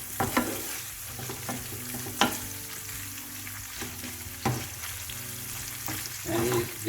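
Rice with prawns and tuna sizzles and fries steadily in a pan, a close continuous hiss broken by periodic scrapes and stirring clatters from a utensil, with no one speaking.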